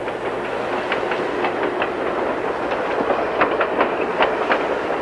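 Old-time radio drama effect of a train rolling on rails: a steady, close rumble with faint rhythmic clicking of wheels throughout, no voices.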